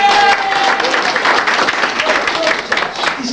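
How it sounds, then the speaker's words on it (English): Convention crowd at a science fiction event's opening ceremony claps and cheers, a loud, close wash of applause with some voices mixed in throughout. "Go on, round of applause."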